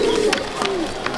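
Pigeons in a loft cage at a Chandannagar pigeon loft give a brief low coo amid soft rustling, with a voice faintly in the background.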